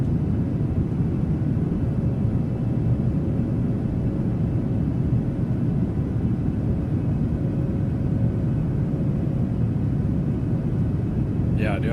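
Boeing 737-900 jet engines in the PMDG flight simulator game give a steady, loud, continuous roar with a low rumble that holds unchanged throughout.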